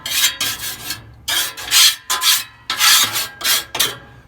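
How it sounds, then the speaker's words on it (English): A scraper rasps residue off the grates of a Pit Boss grill in repeated gritty strokes, some short and some drawn out, close and fairly loud with no talk. "So once we get that all scraped off"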